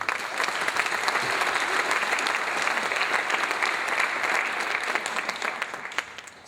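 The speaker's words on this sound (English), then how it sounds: "So let's give them a round of applause." A gala audience claps in a dense, sustained round of applause that holds loud and steady for several seconds before easing off toward the end.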